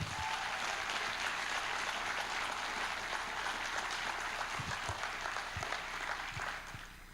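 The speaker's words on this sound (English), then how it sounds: "Give your rookie teams a massive applause" An audience at a robotics tournament applauds rookie teams with sustained clapping, sharp individual claps standing out from the crowd before the sound tapers slightly at the end.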